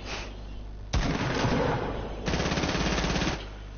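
SMG fire in a video game, two long rapid automatic bursts, loud and close, separated by a short gap.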